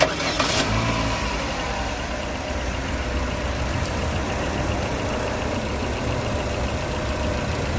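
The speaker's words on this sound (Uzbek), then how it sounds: "endi mashinani o't oldiramiz" A propane-fuelled car engine turns over and settles into a steady, low idle that runs throughout, with a short burst of noise right at the start.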